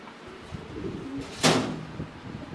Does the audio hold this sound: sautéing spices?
no